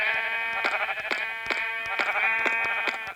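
A Minecraft lamb bleats in a series of wavering, nasal cries, repeating every half second or so, close and fairly loud.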